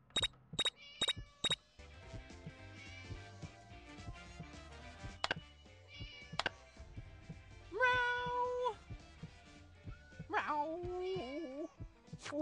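Cartoon cat meowing in the video game Scary Teacher 3D, several distinct meows, including a long drawn-out one and a wavering one, mixed with game music, clicks and clinks.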